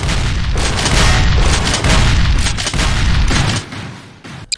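Shotgun fire from military characters in the Garry's Mod video game: dense, loud overlapping booms and blasts that run continuously, then thin out and stop with one final faint pop.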